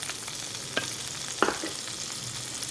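Washed potatoes frying in hot oil in a pan, a steady sizzle punctuated by a couple of sharp clanks and scrapes from stirring, close and without talk.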